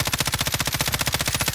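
Rapid automatic gunfire in the Call of Duty: Modern Warfare video game, a steady burst of evenly spaced loud shots running the whole moment without pause.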